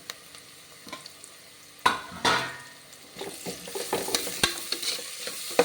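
Ginger garlic paste sizzles and fries in a pan while a spoon stirs and scrapes intermittently, with short clattering bursts close by.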